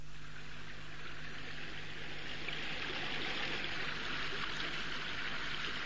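Rainwater rushes down the middle of a street as a steady, fairly quiet stream, an unbroken watery hiss with no voices over it.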